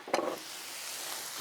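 A brief burst of sizzling as garlic hits hot oil for chicken chow mein, followed by a soft, steady frying hiss.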